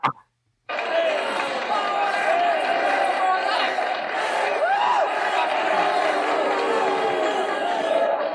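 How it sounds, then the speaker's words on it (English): A large arena crowd in a Rocky boxing video game keeps up a dense, sustained roar of booing and murmuring, loud and continuous after a short silence. "And there's booing."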